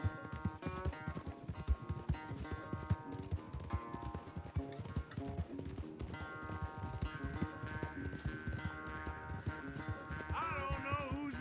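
Horse galloping in Red Dead Redemption 2 during a race, steady rapid hoofbeats set under a dense orchestral game score that stays loud throughout.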